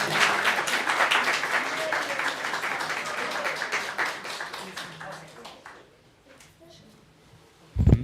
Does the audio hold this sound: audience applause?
yes